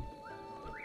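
A dog in Zelda: Breath of the Wild gives a short, soft whimper over a steady game soundscape of low music and ambient hum, with a faint rising whine near the end.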